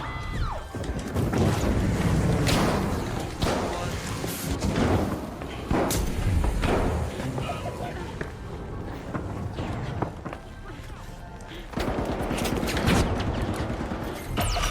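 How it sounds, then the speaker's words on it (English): Frag grenade tossed and exploding in the shooter game The Finals, a dense burst of heavy blasts and crashing impacts amid continuous in-game combat noise, footsteps and thuds, loud and sustained through most of the stretch. "Toss the frag."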